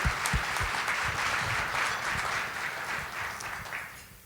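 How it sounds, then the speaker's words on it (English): Audience applause at a college sports coach-of-the-year luncheon for a newly hired athletic director, a steady wash of many hands clapping that holds for a few seconds and then tapers off toward the end. "Maybe a round of applause for our new athletic director,"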